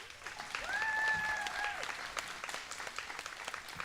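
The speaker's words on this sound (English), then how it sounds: "we want to give a special round of applause and a special salute to today's winners." Outdoor applause from an audience at a press conference for a Brooklyn greenest block contest, scattered clapping of moderate loudness with a brief voice cutting through near the start.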